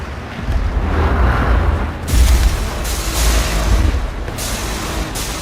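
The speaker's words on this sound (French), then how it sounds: "Ah, la bombe." A bomb explodes in the shooter Wolfenstein: The New Order, a deep rumbling boom swelling around the midpoint over sustained low-end roar and broad noise, with no voices present.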